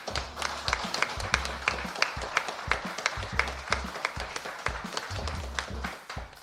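Studio audience on a Brazilian television programme gives a round of applause, the clapping falling into a strong steady rhythm over a low thumping beat, loud and close throughout.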